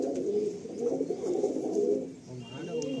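Pigeons coo softly in a loft in Barasat, a few low, throaty rolling calls close by, with a faint voice now and then.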